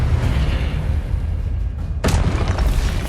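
A Confringo blasting spell explosion in Hogwarts Legacy, a single sharp boom that bursts out loud and near after a steady rumbling background.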